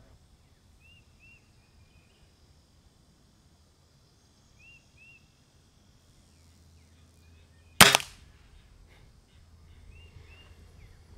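A Weihrauch HW 35e .177 spring air rifle fires outdoors with a single sharp, loud crack partway through. Faint bird calls and soft rustling fill the quiet before and after the shot.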